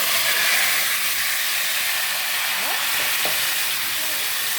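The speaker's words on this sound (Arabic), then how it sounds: "وهبدا اقلب الشعريه في الرز، وهقعد اقلب شويه حلوين كده" Vermicelli is stirred into washed rice in a hot frying pot, giving a loud, continuous sizzle and hiss with faint scraping of the spoon.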